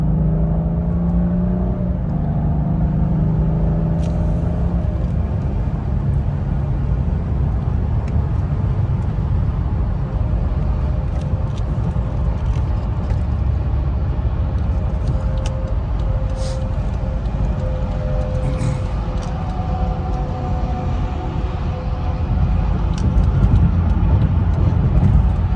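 A 2015 BMW 640i xDrive Gran Coupe accelerates onto the freeway with a steady engine hum and rising tones as it climbs through the gears. Road and tire roar builds, and the sound grows louder near the end.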